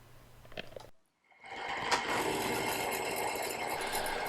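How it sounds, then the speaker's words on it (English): A milling machine skimming the edge of a steel base plate for a drill sharpener: after a brief gap, a steady whirring cut starts up and holds at an even, close level. "While I'm on the milling machine, I skimmed up the first edge of the base plate"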